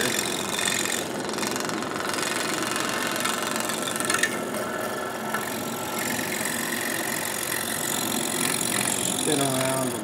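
A fretsaw cuts the corner scarf fret on a workpiece, giving a continuous rapid rasping buzz with steady rhythm close to the listener and no pauses throughout.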